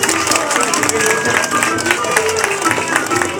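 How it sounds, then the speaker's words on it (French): An outdoor festival audience in Lyon applauding Cambodian dancers, brisk continuous clapping from a sizable crowd, close and fairly loud for the whole few seconds. "On les applaudit une dernière fois."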